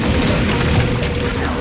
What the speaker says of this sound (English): Without weight displacement, the mine will detonate.